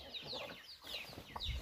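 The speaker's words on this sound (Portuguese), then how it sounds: "É muita galinha caipira." Several free-range chickens on a rural smallholding cluck in a busy, overlapping flock chatter at moderate distance, with scattered rustling and a low thump near the end; no one speaks.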